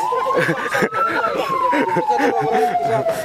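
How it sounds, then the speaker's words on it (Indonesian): Ambulance siren wailing at an integrated natural disaster response drill at a military district command in Aceh Singkil, a continuous rising and falling tone heard loudly and close, with voices talking underneath. "kita lihat di sebelah sana sudah ada datang ambulan guys dari pihak tim medis"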